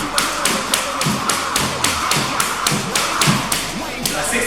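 A jump rope whips through rapid double unders, a steady run of sharp close slaps and thuds on the floor repeating in quick even rhythm.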